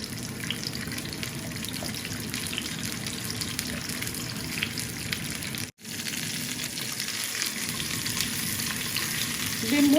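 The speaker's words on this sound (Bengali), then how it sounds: "এখন ডিমগুলারে একটু ফ্রাই করে নিতাম হইব আগে" Eggs frying in a pan for a Bengali-style egg bhuna, a steady close sizzle running throughout, broken by one brief dropout near the middle, with clinks of stirring toward the end.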